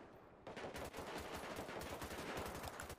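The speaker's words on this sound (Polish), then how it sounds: "Strzały po krzyżu jakieś." Rapid automatic gunfire in a GTA roleplay shootout, loud dense bursts of overlapping shots filling the whole stretch without pause, with no talking.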